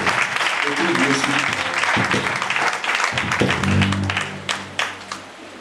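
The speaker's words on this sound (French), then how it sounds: "Qu'on acclame." Audience at a church gathering applauding as the treasurer is announced, a dense burst of clapping with voices and cheers mixed in, thinning to scattered claps by the end.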